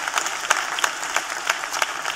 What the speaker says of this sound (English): let's just give God another round of applause for the A.D.